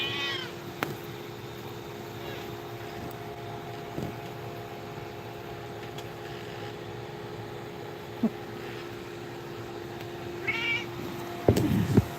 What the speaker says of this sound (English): She'll just walk back and forth and meow.